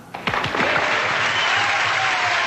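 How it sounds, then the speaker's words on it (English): Cued studio-style applause crowd clapping after a short voice fragment, swelling quickly into an even, sustained wash of many hands that carries on to the end. "Okay, cue the clap now."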